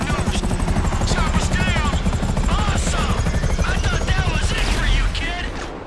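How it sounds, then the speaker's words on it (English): In the video game GTA V, an attack helicopter's loud chopping rotor beats continuously alongside bursts of rapid machine-gun fire, with excited voices talking over the noise. "This is the second time one of those evil helicopters comes after me."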